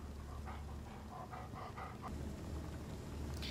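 A dog in the Blair Witch video game, several soft barks or panting bursts in a short run over a low, steady rumbling ambience, moderately near.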